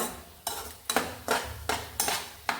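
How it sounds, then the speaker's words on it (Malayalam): A herbal mixture stirred in a pan on a gas stove gives six evenly spaced scraping strokes of a spoon against the metal, close and fairly loud, with a low steady hum underneath and no speech. "അപ്പോൾ നമ്മളിത് ശരിക്കും മൂക്കുന്നത് വരെ നമ്മളിങ്ങനെ ഇളക്കിക്കൊണ്ടിരിക്കുക"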